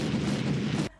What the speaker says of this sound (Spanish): Ojo con los petardos.